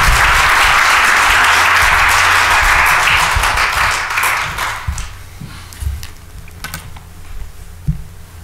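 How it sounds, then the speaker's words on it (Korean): Loud applause from a church congregation welcoming a missionary at a revival meeting, dense clapping for about four seconds before thinning into scattered claps and fading. "큰 박수로 환영하시겠습니다"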